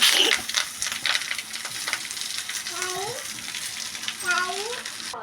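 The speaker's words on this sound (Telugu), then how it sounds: "ఇప్పుడు మునగాకు వేపుతారండి" Moringa leaves frying in a pan, a continuous crackling sizzle with louder bursts, while a voice chirps briefly in the background.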